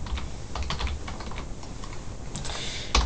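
Steady typing on a computer keyboard, close and clear, with quick irregular key clicks running throughout and no talk over them.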